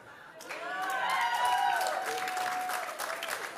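An awards-presentation audience applauding Olympians, clapping that rises quickly and holds steady. Cheering voices and a sustained tone carry over the hall.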